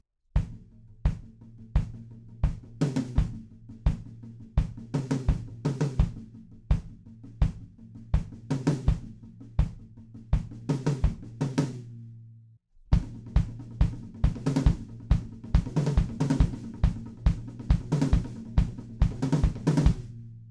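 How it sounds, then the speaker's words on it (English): Drum kit playing a song, a steady four-on-the-floor kick drum with rack tom accents at the end of each bar, close and punchy, looping the groove twice with a brief pause between. "We've got kick drums going 4 on the floor, so all together sounds like this."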